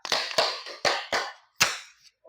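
A group claps together in a rhythmic pattern, six sharp, close claps with short pauses between them and no talking.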